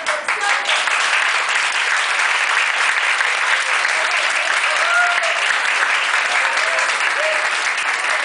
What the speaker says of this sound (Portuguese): tem que aplaudir você